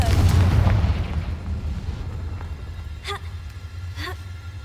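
A Confringo blasting curse goes off in Hogwarts Legacy with a heavy, booming explosion up front that rumbles and fades, followed by a couple of brief chirping game effects.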